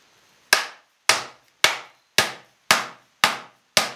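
Hammer driving a wooden wedge into a forged pickaroon head: seven sharp, evenly spaced close blows about half a second apart, each a crisp strike with a short ringing decay.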